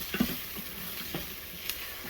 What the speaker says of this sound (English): And I'll let that saute, and I'll saute that for about 30 seconds.